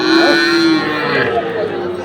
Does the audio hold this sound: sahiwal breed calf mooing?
yes